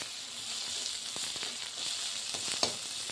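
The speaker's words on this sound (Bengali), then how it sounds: "এখন এই পেঁয়াজটা ভাজা করে দিচ্ছি" Onions frying steadily in a pan, a continuous close hiss of sizzling oil with faint scattered pops and a brief clink near the end, no voices.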